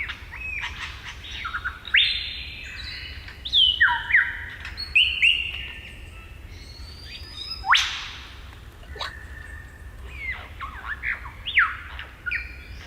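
Australian superb lyrebird mimicking R2-D2 droid sounds: rapid electronic-like whistles, chirps and sweeping squawks in irregular bursts, fairly close and clear over a low steady background hum, with no talking.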